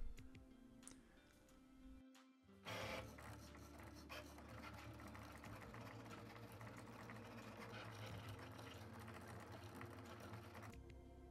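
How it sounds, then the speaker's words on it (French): Cricut Maker 3 cutting machine slicing vinyl, a steady close mechanical whir with rapid ticking and rattling carriage movement running continuously after a brief pause. "La Cricut détecte bien le vinyle. J'appuie donc sur le bouton de lancement. C'est parti pour la découpe."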